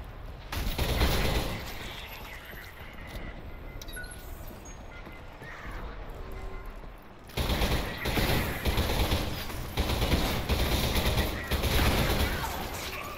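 Shotgun firing in Selaco: a steady run of loud blasts and heavy combat noise, with a brief quieter stretch midway before the repeated booming shots resume, dense and close.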